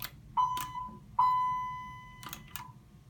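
Elevator alarm bell in a ThyssenKrupp oildraulic car at an office building, rung twice in short bursts, the second held about a second, with clicks from the button, close and clear against a quiet background.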